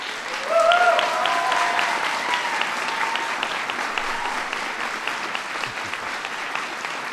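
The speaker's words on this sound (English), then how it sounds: "Give him a big round of applause." Audience at the White House applauds in a sustained, dense burst of clapping that rises sharply and holds steady, with a few voices briefly audible over the crowd.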